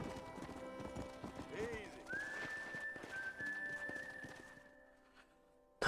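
Horse hooves clip-clopping in a steady rhythm in the Red Dead Redemption video game on Switch, with a whinny and a whistle-like tone, while someone speaks briefly over it.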